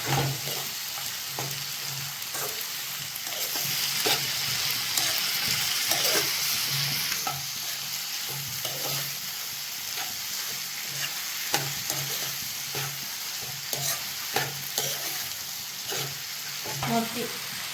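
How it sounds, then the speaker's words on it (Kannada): Tomato masala with cashews frying and being stirred in a pan, a steady close sizzle broken by repeated scraping stirs throughout, with no talking. "ಕ್ಲೀನಾಗೆ ಫ್ರೈ ಮಾಡೋಣ. ಟೊಮೊಟೊ ಸ್ವಲ್ಪ ಸಾಫ್ಟ್ ಆಗಬೇಕು ಇವಾಗ."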